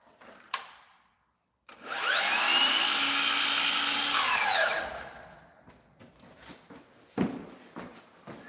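A saw cuts through wooden stair trim during a repair, making one steady, close rasping stretch of about three seconds, framed by a few scattered knocks and handling clatter.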